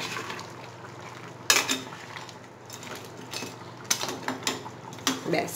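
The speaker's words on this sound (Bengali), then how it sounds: "হালকা হাতে একটু মিশিয়ে দেব" Crab masala with lime juice and pepper is stirred gently in a pot, giving light metallic scrapes and clinks of a spoon against the pan, with a few brighter clatters near the middle and toward the end.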